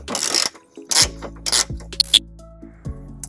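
Metal ratchet clicks and scraping as a 17mm socket works the tow hook bolts loose underneath a 2003 Subaru Forester, in short irregular bursts with quiet gaps between.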